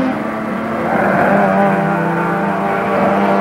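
A Polymotor Lola race car with a plastic engine races past, a loud, steady engine drone that swells and holds, close and alone.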